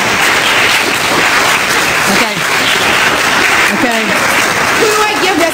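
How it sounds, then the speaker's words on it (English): Clapping from the gallery at a Houston city council meeting during an Occupy Houston session, a loud continuous patter with voices talking over it. "I know a council member started the clapping"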